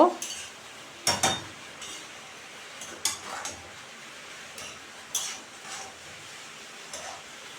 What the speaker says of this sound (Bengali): জিরের গুঁড়ো দিয়ে দিলাম ভালো করে একটু নেড়ে দেব